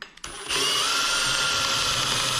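Power drill spinning up and running steadily while tightening screws on an IKEA cabinet, close and loud after a brief click at the start.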